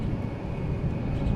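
Boeing 747 rumbling at DFW airport as it readies for takeoff, a loud, steady low engine roar with no talk over it.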